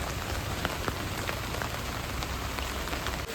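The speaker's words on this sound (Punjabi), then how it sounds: "ਮੀਂਹ ਦੇਖੋ ਹੋਰ ਵੀ ਤੇਜ਼ ਹੋ ਗਿਆ" Heavy rain pours down in a dense, constant roar, with individual drops spattering close by throughout.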